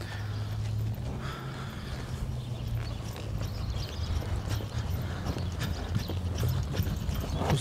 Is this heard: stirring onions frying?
no